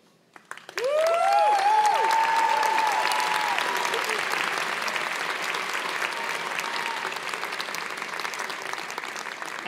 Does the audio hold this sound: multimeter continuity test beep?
no